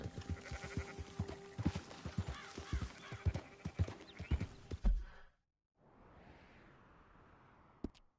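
Rhythmic hoofbeats of a horse galloping in a video game with a whinny mixed in, loud and steady for about five seconds, then cutting to a softer wash and a sharp click.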